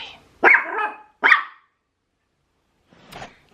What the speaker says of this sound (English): If you hear my dog, that's Toby just being weird.